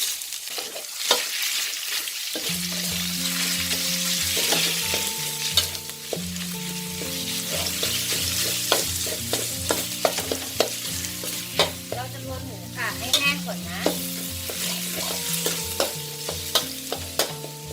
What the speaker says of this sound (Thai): เราก็ใส่หมูสับค่ะลงไป หมูสับค่ะ 200 กรัมนะคะ